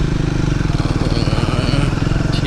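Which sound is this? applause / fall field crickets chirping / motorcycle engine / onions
motorcycle engine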